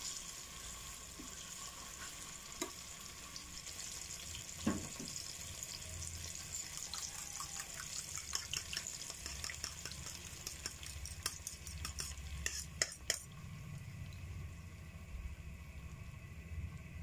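Eggs and tomato frying and being stirred in a pan for a scrambled egg dish, with a steady low sizzle and repeated scraping stirs and clinks throughout, close and fairly quiet.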